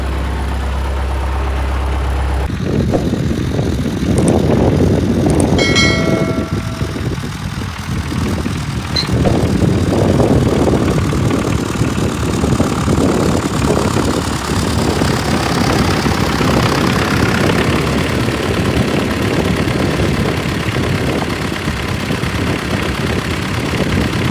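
An MTZ tractor pulling a cultivator through a field for wheat tillage, its diesel engine revving hard and steadily with a rough, knocking rumble, loud and close throughout after a brief start.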